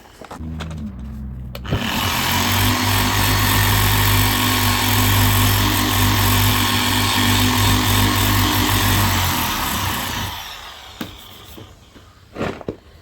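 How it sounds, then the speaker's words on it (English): A power sander whirs steadily at high speed for about eight seconds sanding the paint on a Honda Civic FD1, then winds down into quieter handling noises. "ready to get some sanding done. Let's get the sander out."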